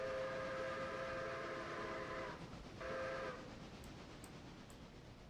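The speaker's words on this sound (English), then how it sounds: "Go ahead and do a nice alarm whistle." A train whistle sounded as an alarm in the Railroader video game on the Black Mountain & South Tuckasegee Railroad, giving two steady tonal blasts with a short gap between them over low rumbling engine noise.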